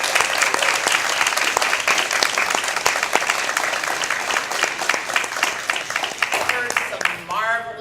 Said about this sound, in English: give a round of applause to the chair and the brains behind the outfit